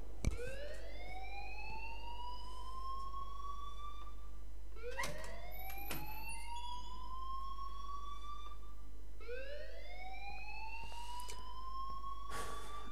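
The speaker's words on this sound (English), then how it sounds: "please turn off that alarm since that's your job" A school alarm blares in the video game Life is Strange, rising whooping sweeps that repeat three times over a constant low electronic hum, loud and continuous.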